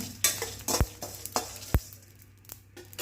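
Dry red chillies sautéed and stirred in a pan for a Chettinad bitter gourd tamarind kuzhambu: a low sizzle under a few sharp scrapes and knocks of a spoon against the pan, close and fairly quiet.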